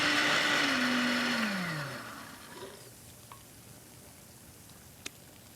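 A blender whizzes miso dressing in a short loud burst, its motor pitch dropping as it spins down, followed by quiet kitchen background with a few faint clicks.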